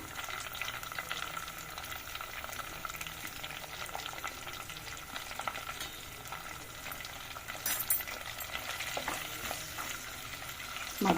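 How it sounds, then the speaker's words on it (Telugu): Soft, continuous sizzling of tempering spices and curry leaves frying in a pan, with faint stirring scrapes and an occasional clink, no voices. "ఇదో తాలింపు మగ్గుతుందండి"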